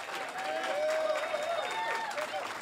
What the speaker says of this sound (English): Can you guys clap it up for Kenneth?